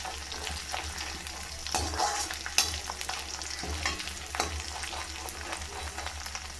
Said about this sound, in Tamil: எண்ணெய் சூடாயிடுச்சு, சுண்டைக்காய் சேர்த்துக்கிறேன். கொஞ்சம் பொரியட்டும்.